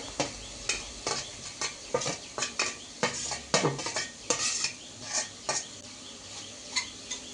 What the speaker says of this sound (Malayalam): നന്നായി ഇളക്കി യോജിപ്പിച്ച്